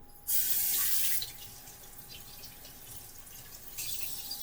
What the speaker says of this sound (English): I'm gonna wash the outside of the kiwi every single time because insects can crawl on the outside of the fruit.